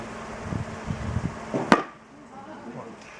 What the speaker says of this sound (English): Anything touches inside the mouth, guys, a grain of sand, a drop of sweat, anything touches, they do slam the jaws shut.